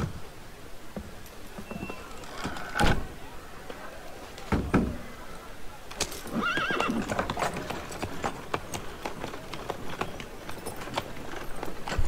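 Horses in the video game Assassin's Creed Unity clop along with hooves ringing on hard ground, steady and moderately close, broken now and then by whinnies and snorts over a faint background bed.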